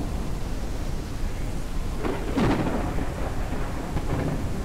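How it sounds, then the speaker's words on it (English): Storm weather in the survival game Forever Skies while aboard a blimp: constant heavy rain hiss with a deep rumbling thunder roll swelling midway and a fainter rumble near the end. "Oh, we're in a storm."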